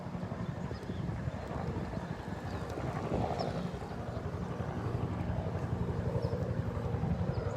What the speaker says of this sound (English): there's a helicopter going by.